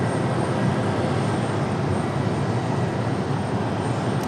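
An airplane on final approach to runway 23 left at Raleigh-Durham International, its engine roar a loud, steady broadband wash held throughout with no break.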